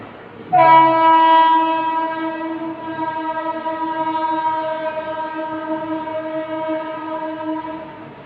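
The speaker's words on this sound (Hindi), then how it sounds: "आज बहुत ट्रेन जा रहे हैं।" A train horn blasts near the line, sustained and loud for several seconds, over a steady background rumble of passing rail cars.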